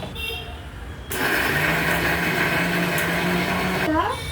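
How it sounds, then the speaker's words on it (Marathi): A mixer grinder grinds coriander, ginger and green chillies into a paste, switching on abruptly and whirring loudly and steadily for about three seconds before cutting out and winding down. "कोथिंबीर, आलं आणि मिरच्या हे सगळं बारीक करून घेऊया."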